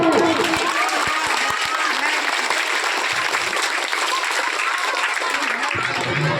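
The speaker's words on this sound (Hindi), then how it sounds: "एक बार पुनः आदरणीय कौशल भाई के लिए जोरदार ताली।" A crowd at a Teachers' Day school event gives loud, steady applause that runs unbroken for several seconds, with dense clapping and a few voices mixed in.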